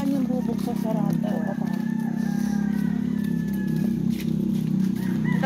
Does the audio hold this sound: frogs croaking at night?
no